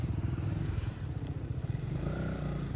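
A motorcycle engine idles and runs on a morning ride in Roxas City, a steady low rumble with faint clatter and road noise, close and continuous with no talking.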